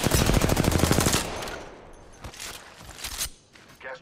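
Rapid automatic gunfire in Apex Legends rattles out as a dense close burst for about a second, then fades into scattered, more distant shots and bursts.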